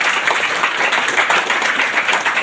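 Steady applause from an audience welcoming distributors at a Mi Lifestyle meeting, many hands clapping together in a loud, even stream with no break.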